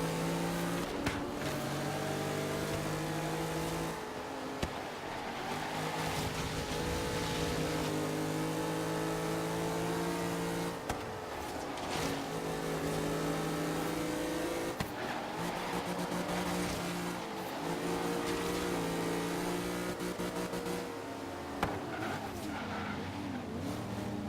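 Cars in Forza Horizon 3, running a little rich, rev loudly and steadily through repeated upshifts and downshifts, with sharp breaks in the engine note every few seconds across a long continuous run.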